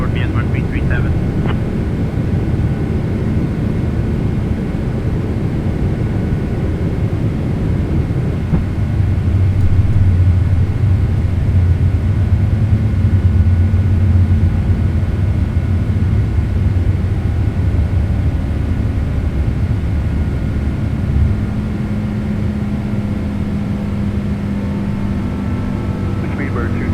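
A PMDG British Airways Boeing 777-236(ER) in the MSFS2024 flight simulator climbs out after takeoff, a steady loud engine roar and rumble filling the whole stretch, with no talk.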